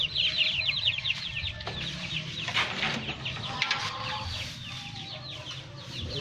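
Domestic chickens cluck and chatter continuously in a busy flock at a rural home, with layered bird calls and faint outdoor rustling throughout.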